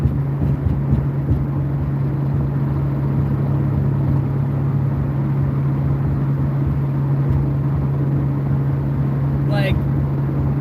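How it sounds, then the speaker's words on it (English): A car engine runs with a lifter tick, producing a steady, close mechanical hum with a constant low tone and faint rapid ticking underneath that continues unbroken throughout. "See, hear that? There's that lifter tick."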